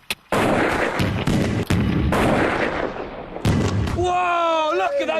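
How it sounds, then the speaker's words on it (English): Massive mortars fire and launch drop-resistant laptops high into the air, a series of loud, close blasts and sharp bangs in quick succession, followed by whistling, screeching tones near the end. "The massive mortars blew the laptops at least 20 metres into the air."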